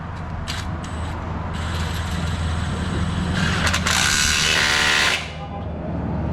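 A ratchet wrench tightening an exhaust bolt while fitting a Cobb exhaust to a 2018 Ford Focus RS, with rapid clicking ratchet strokes, a louder grinding ratchet burst near the end, and a steady background hum.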